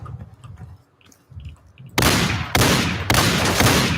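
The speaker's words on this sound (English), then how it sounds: "let's try the shotgun on the zombies." Three loud, evenly spaced shotgun blasts aimed at zombies in a video game, each with a sharp attack and a lingering tail, following a quieter stretch of low murmuring.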